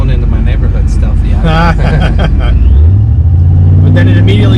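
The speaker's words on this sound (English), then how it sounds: "But then it immediately goes to that exhaust note." Supercharged first-generation Ford SVT Lightning pickup with a Vortech blower and 200,000 miles: a deep exhaust rumble swells and climbs in pitch partway through, loud and close, under people talking.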